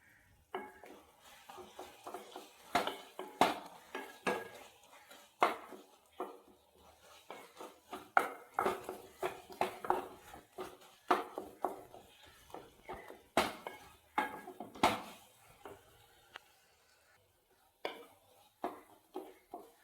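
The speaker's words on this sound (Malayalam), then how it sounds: "നല്ലോണം ഇങ്ങനെ ഇളക്കി കൊടുക്കും" Food being stirred in a pot while making a steamed rice-flour and plantain evening snack, with crushed cardamom going in; irregular scraping and clinking strokes repeat steadily, close and fairly quiet, with no talking.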